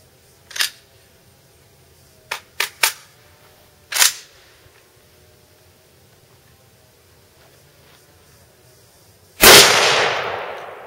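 Sharp rifle shots from an AK-47 M70 NPAP outdoors: a single crack, then a quick cluster of three and another lone shot, followed by a loud, sustained blast that decays slowly, with quiet gaps between.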